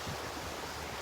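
Beach waves wash and rumble on the shore with wind buffeting the microphone, a brief, steady outdoor surf roar.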